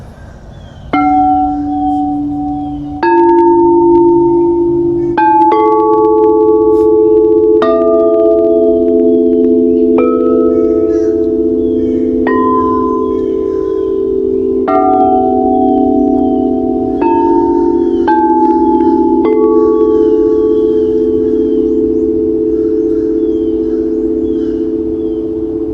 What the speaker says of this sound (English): So this is the strike of the suede mallets.